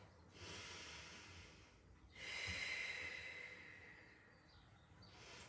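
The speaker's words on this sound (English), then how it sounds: "we're breathing in through our nose and out through our mouth" A person doing a Pilates exercise breathes in through the nose and out through the mouth, two long audible breaths with a hissing, airy exhale, close and quiet with no talk.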